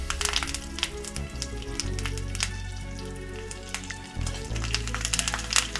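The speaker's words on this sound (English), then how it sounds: "this is the time we will add the curry leaves" Curry leaves hit hot oil in a coconut chutney tempering with dried chili, giving a continuous sizzle and frying crackle with scattered sharp pops, fairly soft and close with no talking.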